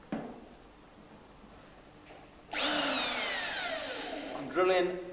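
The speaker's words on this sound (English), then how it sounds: "I'm drilling an 1/8 pilot hole first" A cordless drill bores a 1/8 inch pilot hole along the return lip of a bonnet, whirring up loudly and steadily for a couple of seconds before a brief higher surge as it cuts through.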